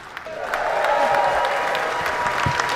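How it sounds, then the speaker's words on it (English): A concert audience at the Bedford Corn Exchange applauds the Lord-Lieutenant, a brief, steady wash of clapping hands with faint crowd murmur and a few sharper claps, lasting under three seconds. "Ladies and gentlemen, big round of applause for the Lord-Lieutenant"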